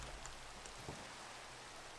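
Steady hiss of rain falling in a blocky sandbox game world, soft and continuous with a faint thud partway through.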